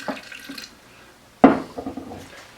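A short burst of water splashing into a food processor, brief and close, with quieter kitchen clatter before and after.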